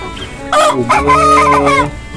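A rooster crows loudly and close by among Australorp and KUB chickens, a single drawn-out cock-a-doodle-doo rising and then trailing off.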